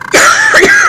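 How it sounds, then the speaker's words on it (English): A single short cough followed by a rough throat clearing, loud and close to the microphone, with no other sound around it. "I started to cough and get really annoying."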